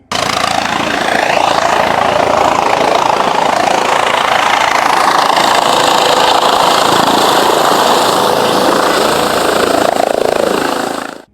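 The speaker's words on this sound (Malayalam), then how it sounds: "ഹൃദയവുമായി ഹെലികോപ്റ്റർ ഗ്രാൻഡ് ഹയാത്ത് ഹെലിപ്പാഡിൽ പറന്നിറങ്ങി" A helicopter carrying a donor heart lands on the Grand Hyatt helipad in Kochi, a loud, continuous rotor and engine roar close by that holds steady, then cuts off abruptly at the end.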